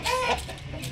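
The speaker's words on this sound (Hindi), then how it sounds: "बहुत अग्रेसिव मुर्गा, बहुत अग्रेसिव है ये।" An aggressive Aseel rooster gives a brief, close, harsh call that fades quickly.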